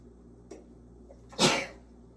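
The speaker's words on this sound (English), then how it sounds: "I'm about to sneeze." A single sharp sneeze bursts out close by after a quiet moment, preceded by a faint small breath or click.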